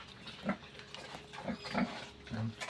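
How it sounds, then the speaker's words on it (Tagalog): A black sow, pregnant or newly bred, gives a few low, soft grunts spaced about a second apart, against a faint, hissy background. "Yan siya, isang black na baboy."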